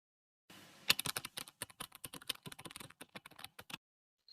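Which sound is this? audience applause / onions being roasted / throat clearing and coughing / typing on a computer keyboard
typing on a computer keyboard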